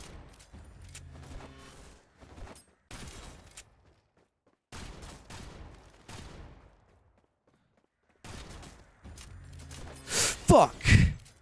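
Video game gunfire: after quiet stretches of muffled breathy sounds, a quick cluster of sharp, loud shots bursts out near the end.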